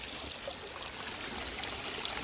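Water streams down and flows beneath railroad tracks along a CSX Pittsburgh or NS Youngstown line, a steady close rush and trickle that holds evenly with no talk.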